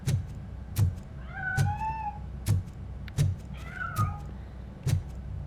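A cat meows twice in the video game Robocop: Rogue City, with drawn-out rising cries heard over a low ambient hum and regular soft thumping beats.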